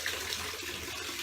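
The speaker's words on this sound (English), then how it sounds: "gonna turn the hot water off" Hot water from a tap running steadily into a sink, a continuous close hiss and splash with no talking.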